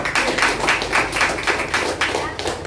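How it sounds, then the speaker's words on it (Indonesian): An audience at an Indonesian sales team meeting gives a short round of applause for an assistant-manager achiever. The clapping comes in rhythmic bursts from a modest group in a room, loud and close throughout. "Ya, kasih aplaus untuk Bu Ina."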